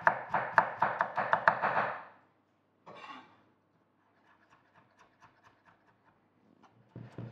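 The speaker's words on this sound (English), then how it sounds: "I'm just going to chop mine into nice, fine little matchsticks." A knife finely chopping vegetables into matchsticks on a board: a quick run of crisp, evenly spaced chops, a pause, a short scrape, then faint light taps and a last burst of cutting.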